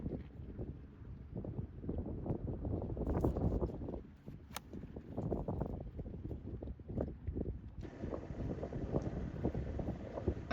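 Wind gusting across an open golf course, a steady rushing roar buffeting the microphone throughout, loud and close with shifting surges and no talking.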